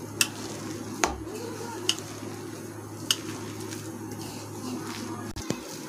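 A lotus stem kebab paste with cornflour being stirred and mixed in a bowl, soft steady squishing broken by a few sharp clinks of a utensil against the side.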